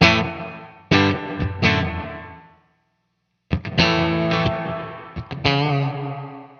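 An electric guitar played through a spring reverb pedal rings out in two loud distorted chord phrases separated by a brief silence, each trailing a splashy, metallic reverb tail.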